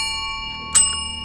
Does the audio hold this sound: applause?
no